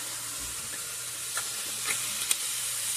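Mushrooms and beef bouillon powder sizzle in a pot for a one-pot Philly cheese steak rigatoni: a steady, close hiss with a few small pops and crackles.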